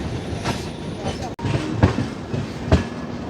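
An Indian express train crossing the Nagpur diamond railway crossing, rhythmic heavy wheel clunks over the rail joints with steady rumbling from inside a moving coach, close and loud.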